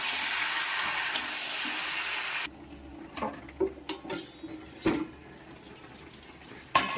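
Tap water gushes steadily for a couple of seconds while meat is washed, then stops, and clinks and knocks of pots and dishes follow near and fairly loud.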